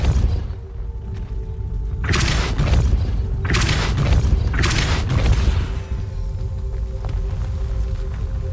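A Depulso force spell cast in the Hogwarts Legacy video game: three heavy booming blasts in quick succession, each a broad thudding burst, over a low game ambience.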